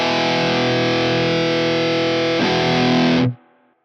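Heavily distorted electric guitar through a Marshall JCM900 amp plays a sustained chord, then a short strummed change before cutting off abruptly, loud, close and alone.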